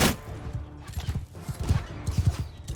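Cannon fire in a strategy battle game, a run of low thumping booms and bursts with a clatter of battle noise, fairly busy and continuous over the short stretch.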